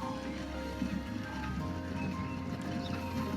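Horse clip-clop in the Transport Fever 2 video game, a faint rhythmic clatter of hooves mixed into quiet ambient game sound with a low tonal hum underneath.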